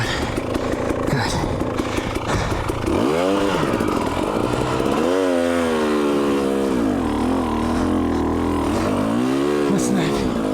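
A 2019 300 TPI two-stroke snowmobile revs hard at about 10,000 feet, its loud engine lugging and climbing in pitch through repeated rising and falling surges, close and continuous for the whole stretch.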